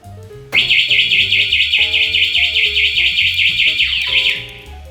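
Anti-theft alarm on a 2018 Honda Super Cub sounding rapid, warbling high-pitched warning chirps in one loud burst of about four seconds, with a faint low background hum.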